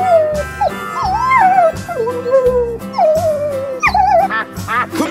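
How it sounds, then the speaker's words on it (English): Cartoon dog howling in long wavering cries over a bouncy musical backing, several howls in a row, loud and close. "Dog."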